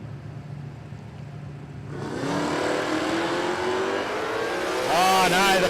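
A drag racing car launches hard at Palmyra Raceway, a quiet idle giving way to a loud, rising engine roar that climbs steadily and peaks in a sharp high-revving scream near the end.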